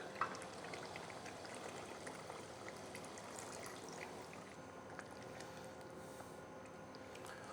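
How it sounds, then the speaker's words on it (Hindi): Water pours steadily into a pot of aloo gosht, a Pakistani-style potato and chicken curry, after the potatoes have been fried; a continuous close splashing stream fills the whole stretch with no talking. "तो अभी मैं इसके अंदर डाल दूंगा पानी तकरीबन 1"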